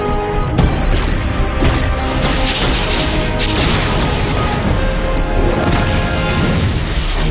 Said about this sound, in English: Concentrate fire on Luthor while I call down some artillery.